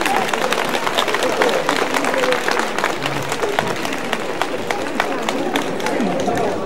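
Audience applause at a seniors' day event with zumba, cabaret, a choir and dancers: dense, steady clapping from a crowd, with voices chattering underneath, lasting throughout.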